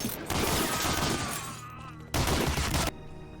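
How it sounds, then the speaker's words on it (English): Heavy weapon fire from Medal of Honor: Allied Assault, a World War II shooter, comes as dense, loud, continuous bursts with a break near two seconds, then another burst and a short ringing tail. "There is a kick to them, and the sound effects are punchy, especially on the heavier guns."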